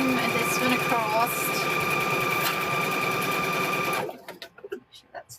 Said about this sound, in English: Stitching this one across.